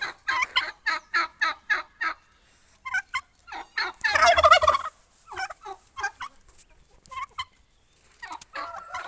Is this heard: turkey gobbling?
yes